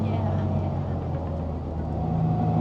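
A Mini's engine drones steadily from inside the car while driving along at a normal pace, a low, even hum with faint road noise and no clear revving.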